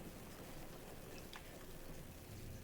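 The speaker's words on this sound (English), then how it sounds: "The soothing rain." Steady rain pours during a storm in the video game Garry's Mod, a continuous quiet hiss of falling drops with no other sounds standing out.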